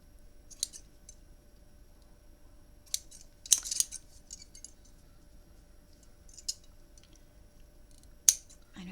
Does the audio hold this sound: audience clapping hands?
no